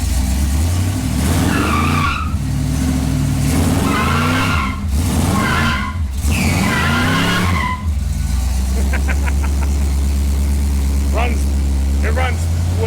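A Plymouth car engine, freshly repaired after overheating and a thermostat fix, runs with a loud, steady low rumble. Voices and other revving and squealing sounds are heard over it.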